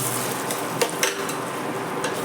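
Vegetables for a beans, brinjal and potato kara kuzhambu sauté in a pan with a continuous, close sizzle, punctuated by a few light clinks of a spoon against the pan.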